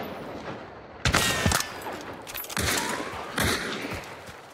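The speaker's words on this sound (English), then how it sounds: "Oh, I'm shooting too high." Gunfire from a shooter video game crackles in several rapid bursts, loud and sharp, separated by brief pauses over a steady background.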